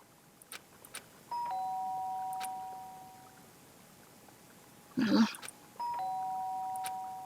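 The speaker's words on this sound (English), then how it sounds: "Sharp sound of the doorbell pierced my sleepy haze and pulled me back to the real world" A two-tone electronic video game doorbell chime rings twice, clear and close, separated by a short burst of noise, in an otherwise quiet room.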